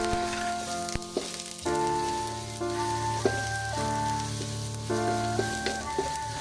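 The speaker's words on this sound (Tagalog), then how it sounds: "Ayan, mainit natin mantika mga kasuki, kaya lagyan natin ang ating bawang." Chopped garlic sizzling in very hot, smoking cooking oil in a pan, a constant close crackling fry with occasional pops and clinks.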